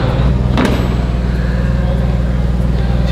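A fake Lamborghini replica car rumbles close by with a rough, low, pulsing engine note while driving off road, with a brief knock or thud early on.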